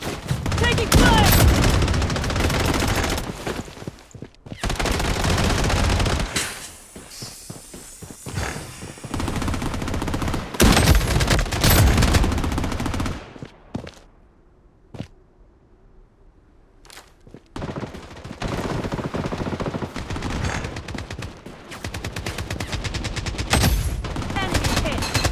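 Rapid bursts of gunfire in the mobile shooter game Bloodstrike, with a shotgun in use on the Hotzone mode, come in loud repeated volleys separated by short quiet gaps.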